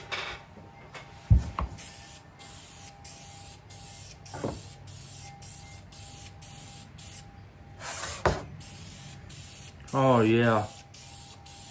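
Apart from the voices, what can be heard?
spraying clear lacquer from a spray can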